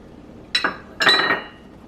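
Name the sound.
Pioneer Woman measuring cups clinking as handled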